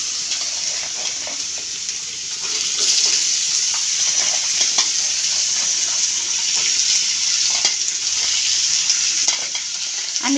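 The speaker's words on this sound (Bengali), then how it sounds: "ওইটার আলুটা একটু ভাজে নিই" Potatoes fry in hot oil in a pan with a loud, steady hiss and crackle that never lets up, alongside occasional stirring sounds.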